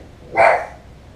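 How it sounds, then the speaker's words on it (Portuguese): A dog gives a single short, sharp bark, fairly close and loud, standing alone against a quiet background. "o Body já está latindo"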